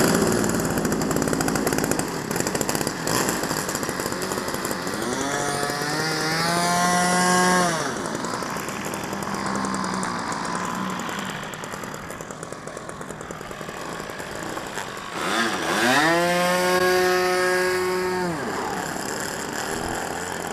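A quarter-scale Super Cub model airplane engine runs loud and close, buzzing steadily, then revving up sharply in two long rising bursts with idle stretches between.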